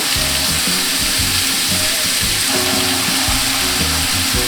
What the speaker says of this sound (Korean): 삼겹살을 볶아줄게요